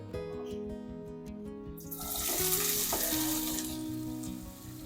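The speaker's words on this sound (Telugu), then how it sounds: "ముందుగా ప్యాన్ పెట్టి ఆయిల్ వేసి బాగా హీట్ అయిన తర్వాత ఆనియన్స్ వేయాలి" Onions hit hot oil in a pan for a fish curry, bursting into a loud, steady sizzle about two seconds in that carries on to the end.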